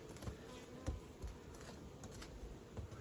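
A steady, low buzzing of many honey bees at a hive hums continuously, faint and close, with no voices over it.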